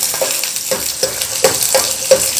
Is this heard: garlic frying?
yes